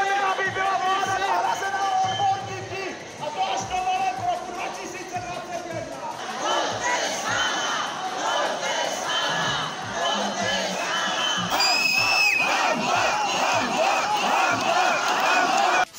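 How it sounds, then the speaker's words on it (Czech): A crowd of several hundred protesters marching to a ministry building on a city square, a dense continuous roar of shouting, chanting and babble that stays loud throughout. "vydal dav několika stovek lidí pochodem před budovu Ministerstva zdravotnictví na Palackého náměstí"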